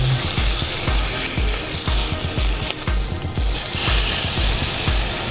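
Beef sizzles in a frying pan at a butcher shop, a steady hiss of frying fat with regular low thumps beneath it.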